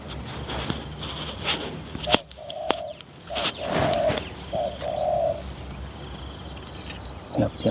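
A dove coos in a short series of soft, low calls, with bird chirps and some rustling or flapping around it outdoors.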